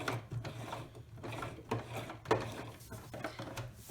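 A sewing machine stitches a fabric napkin in a steady mechanical rattle, with a low motor hum and small clicks and thumps from the needle and presser foot, close by and alone.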